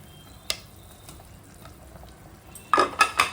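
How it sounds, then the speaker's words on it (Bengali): Bhetki fish pieces for a Bengali yogurt fish curry go one by one into frying masala in a pan, a faint sizzle with a single clack early on, then a burst of loud crackling splutters near the end. "এখন মাছগুলো দিয়ে দেবো একটা একটা করে।"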